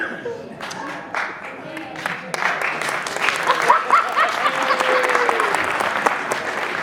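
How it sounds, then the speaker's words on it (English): A comedy show audience claps, starting with scattered claps and swelling into steady applause with some chuckles, while a voice speaks over it early on. "Are you guys clapping"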